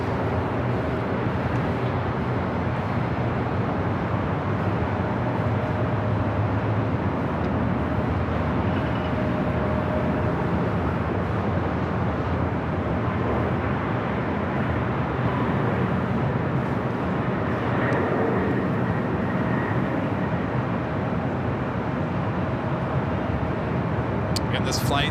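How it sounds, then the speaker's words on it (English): A Boeing 767-400ER takes off from LAX bound for JFK, a constant low jet rumble heard from a distance under ongoing chatter. "Again, this flight heading to JFK, it's a 767-400ER."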